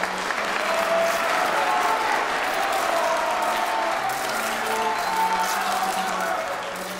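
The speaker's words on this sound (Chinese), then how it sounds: "请以最热烈的掌声欢迎今天的主角——超级模特" An audience at a fashion show greets a supermodel with sustained, loud applause filling the room, with a low hum of music beneath and the clapping tapering slightly at the end.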